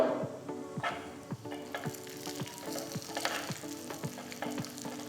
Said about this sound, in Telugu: దీంట్లో నేను ఇప్పుడు కిస్మిస్లు కూడా వేసేస్తున్నాను.